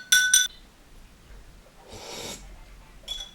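A spoon clinks sharply against a bowl twice, followed by a breathy mouth slurp mimicking someone eating soup, then a final lighter clink, all close and quiet in between.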